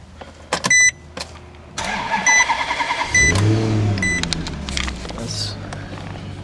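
2007 Maserati Quattroporte with a Ferrari-built engine: a few clicks and chimes from the ignition, then the starter cranks and the engine catches with a loud rev before settling into a steady idle, heard from inside the car.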